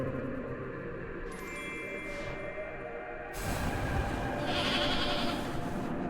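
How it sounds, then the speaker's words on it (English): A goat bleats in the video game Little Goody Two Shoes. A short, wavering animal cry rises over a steady droning ambience, with no one speaking. "I heard a goat."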